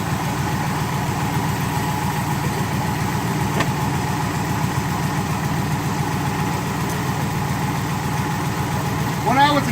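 A 1962 Studebaker Lark V8 wagon, started on starting fluid after sitting a while, idles steadily with a low, even rumble throughout, close up, with a brief rise in sound near the end.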